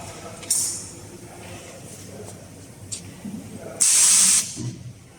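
Pneumatic air cylinder on a GXK woodworking machine releasing air in short hissing bursts, one brief and one longer and louder, with a low machine hum and a voice talking in between.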